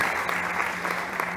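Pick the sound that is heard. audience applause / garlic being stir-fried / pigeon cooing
audience applause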